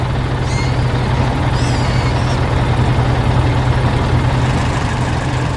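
A cartoon yellow tractor hauling a big log on a farm runs with a steady, loud, droning engine hum that holds constant with no pauses, and a couple of faint high squeaks ride over it.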